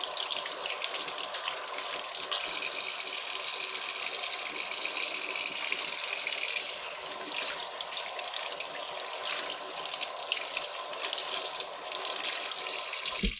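Tap water runs continuously into a sink while a tilapia fillet is rinsed under it, a steady close gush with small splashing changes as the fish is handled, with no talking.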